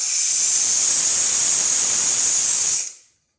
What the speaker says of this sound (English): there's the steam.